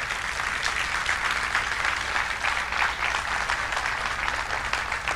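A church congregation applauds loudly and steadily, a thick wash of many hands clapping together throughout, close and sustained with no pauses.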